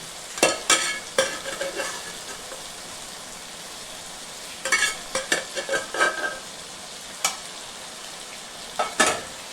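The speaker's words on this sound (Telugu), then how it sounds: "ఈ రొయ్యలు వేసుకుని బాగా కలుపుకోవాలండి" Prawns are stirred into a curry in a pan, with bursts of scraping spoon strokes and sizzling clustered at the start, middle and end, separated by quieter simmering; no one speaks.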